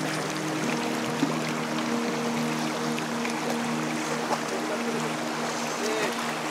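Stream of water flowing down from Ham Ham waterfall near Sreemangal over muddy, slippery rocks: a steady, even rush of water heard close by, continuous throughout with a faint low hum beneath.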